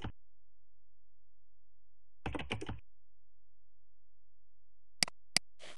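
A few quick keyboard key taps and clicks while entering search criteria on a Mac OS 8 computer, brief and separated by silence.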